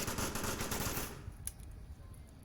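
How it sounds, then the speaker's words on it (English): Rapid automatic gunfire in the VR game Onward rattles for about a second, then stops, leaving a few scattered sharp pops at lower volume. "just receiving a hail of gunfire here"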